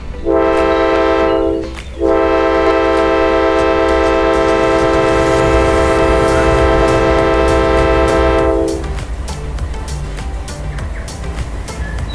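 A loud, sustained horn from the CN Continental train blares with a brief gap, then cuts off, leaving the rumble of the train moving away.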